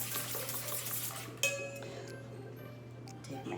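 Eggs and oil stirred together in a bowl make a quiet scraping swirl and light utensil clinks, with one sharper clink partway through.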